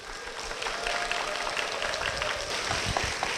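Church audience applauding as an elderly woman, a deaconess, is welcomed to the front; dense, steady clapping fills the space from start to finish without any talk.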